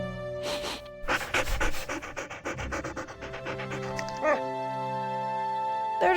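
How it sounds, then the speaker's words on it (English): Dogs in a Nancy Drew mystery game pant in quick, rhythmic bursts close by, the breathy panting pausing and resuming over a soft sustained musical drone. "Look at these dogs!"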